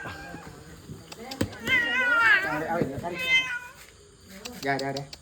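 A cat meows several times, drawn-out and wavering, with a couple of sharper cries toward the end amid faint clicking noises.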